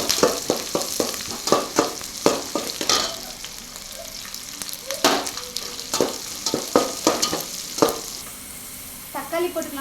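Onions sautéing in a pan with curry leaves for a rich kuzhambu: a steady sizzle broken by repeated scraping stirs, close and moderately loud, with a few brief spoken words late on.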